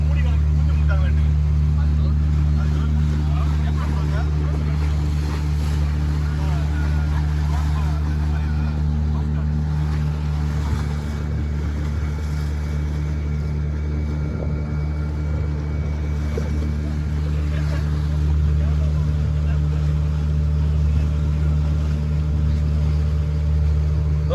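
A speedboat runs off Pondicherry beach with a steady, low droning engine hum that holds for the whole stretch, while people chat nearby over the constant mechanical drone.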